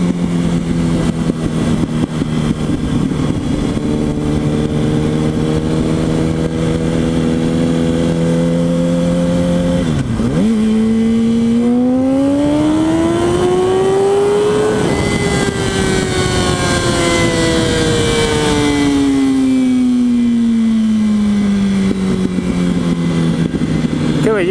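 A Yamaha YZF-R1 sport motorcycle revs hard and accelerates, its engine pitch sweeping up through the gears, loud and continuous throughout.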